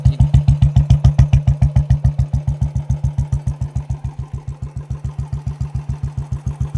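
A Royal Enfield Bullet motorcycle with a short bottle silencer idles loud and close, a steady thumping single-cylinder beat of rapid, evenly spaced exhaust pulses that softens slightly over time.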